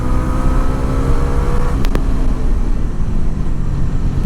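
A Bajaj Dominar 350 motorcycle's engine drones loud and close with a steady, rough hum that holds throughout. A brief sharp click or blip sounds midway, and no one speaks.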